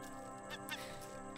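A seagull in the survival video game Raft gives a few harsh, honking squawks over a steady background hum. The calls are faint and come in short bursts.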